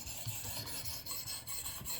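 A knife blade strokes across the higher-grit stones of a Kunwu Pulsar sharpener, making quick, soft rhythmic scraping and rubbing sounds in repeated short passes, close and fairly quiet, with no talking.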